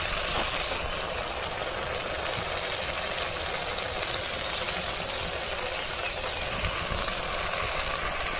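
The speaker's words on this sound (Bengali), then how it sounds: "একটুখানি মশলা ধোয়া জল দিয়ে খুব ভালো করে মশলাটাকে কষিয়ে নেব।" Spice paste for a broiler chicken curry fries in a pan after a splash of spice-rinsing water, making a continuous, even hiss that stays steady and moderately loud throughout.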